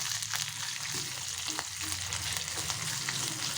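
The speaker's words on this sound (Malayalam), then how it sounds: "കുറച്ച് മുരിങ്ങയില ഇട്ട് കൊടുക്കണേ എണ്ണയ്ക്കകത്തോട്ട്" Drumstick leaves sautéing in a little oil, a close, dense crackling sizzle that runs unbroken with a low hum beneath it and occasional stirring knocks, no voices.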